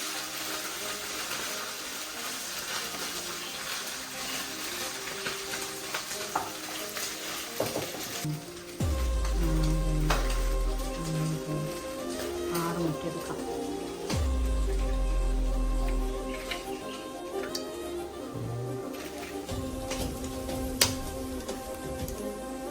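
Water heats in a pot on a stove before rice is added, giving a steady hiss with two longer stretches of deep, rumbling bubbling and scattered small clinks, with no talking.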